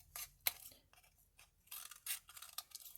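Scissors snip through paper while a Christmas treat box is made, giving a quiet run of short, crisp cuts with small pauses between them, close by and alone with no talk.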